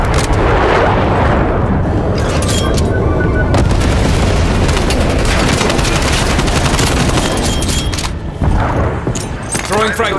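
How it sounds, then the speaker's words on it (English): Napalm strike in Call of Duty: Black Ops Cold War lands as a continuous barrage of heavy booms and crackling fire, loud and dense, mixed with gunfire bursts and a game announcer voice over the top. "Napalm strike inbound."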